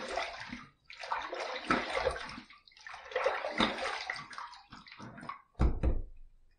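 Water running and splashing at a sink as a face is rinsed after a shave with an Above The Tie Windsor Pro safety razor, close and fairly loud in bursts with short pauses, ending in a sharper splash.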